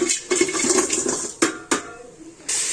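Water is poured into a cooking pot holding jaggery, making a gushing, splashing pour with a few sharp bursts. It stops briefly, then resumes near the end.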